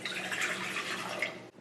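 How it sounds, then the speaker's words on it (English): Water pours into a cold bowl for baking beignets, a steady close splashing stream lasting over a second before cutting off abruptly. "before you pour your water in"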